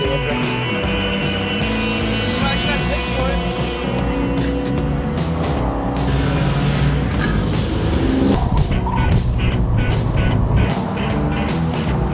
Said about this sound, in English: we've got a full racetrack of 40 cars this morning with us.